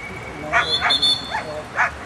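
A large, strong dog barks at a dog show, four sharp, fairly close barks in an uneven rhythm over a steady hum of background noise.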